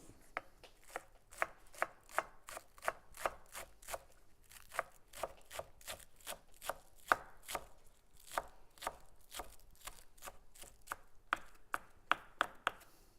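Green onion is chopped on a cutting board with a knife, a long run of crisp, evenly spaced thuds at a quick steady rhythm, close and moderately quiet, with no talking.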